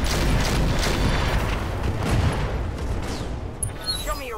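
Firestarter mech weapons firing in the Roguetech battle game, a dense, loud, continuous barrage of booming gunfire and bursts with a few sharper whooshing shots near the end.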